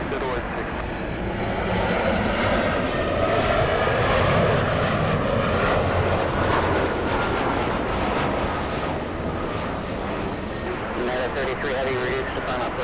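An airliner takes off at Los Angeles airport, its engines building into a loud, sustained roar that swells and then slowly recedes while people talk over it.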